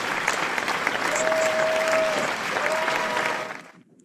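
Audience applause for the guest of honor fills the hall at a real estate launch event, a dense continuous clapping that holds steady under a faint sustained tone before fading out abruptly at the end.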